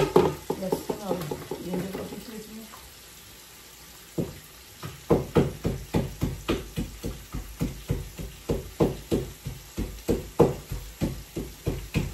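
Onion with ginger and garlic stir-fried in a pan for a bell pepper and potato dry dish, a soft sizzle with a short pause, then a steady run of repeated spoon scrapes and knocks against the pan at close range.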